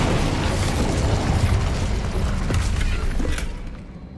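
In Hogwarts Legacy, the Incendio fire spell erupts in a loud, roaring blast of flame that holds steady for a few seconds before fading out.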